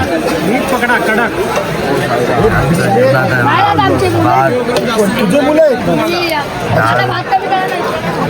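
Dense crowd chatter of pilgrims queuing for a meal on a Mumbai-to-Shirdi foot pilgrimage, many overlapping voices at a steady level with a nearby speaker talking over the babble throughout.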